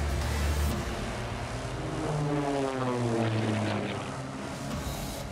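A propeller airplane engine held at full throttle and full RPM drones loudly and steadily, its pitch sweeping as the aircraft passes, with no talk over it.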